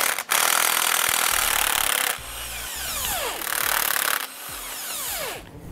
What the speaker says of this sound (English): we want to take the nuts off of the U-bolt that's on the front side of the axle